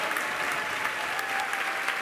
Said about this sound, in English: the crowd is definitely hyped about this